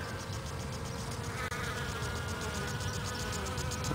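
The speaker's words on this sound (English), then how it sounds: "Oh, we got a bee?" A bee buzzes steadily and close among trailing Echinopsis cactus flowers, a continuous insect drone with faint outdoor ambience and no voices.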